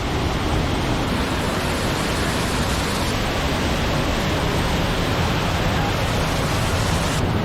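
Wyandotte Falls, a waterfall on a creek, roars steadily and loudly as a dense, unbroken rush of falling water that stays even from start to finish, with no voices.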